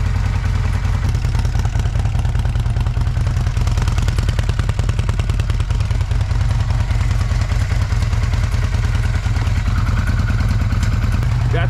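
Engine of a 1996 Kawasaki Vulcan 800 motorcycle running with the choke on after sitting for years, a loud, close, rapid rhythmic chugging idle that holds steady throughout with no voices.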